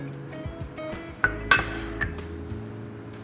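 Sugar, salt and vinegar go into a pot in a kitchen, with light clinks and knocks of a utensil against metal and glass, one sharper clatter in the middle, and no talking.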